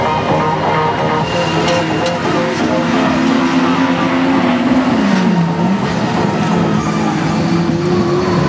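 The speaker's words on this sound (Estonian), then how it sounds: "Nüüd Taavi Pindise autol on midagi, ei tee ta kõige õigemat häält" Autocross race car engine at the Misso EMV round, a loud sustained roar with rising and falling revs, one car apparently running rough, heard continuously up close.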